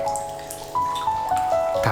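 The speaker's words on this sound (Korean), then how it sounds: "한없이 맑은 소리를 내는 빗방울" Raindrops fall in a steady, unhurried rhythm, each landing as a clear, bright plink with a ringing tone, several in quick succession and fairly close.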